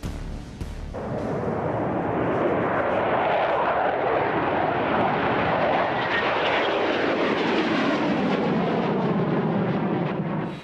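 Eurofighter prototype jet flying, a loud, continuous roar that swells and shifts in pitch as the aircraft passes, with no voices.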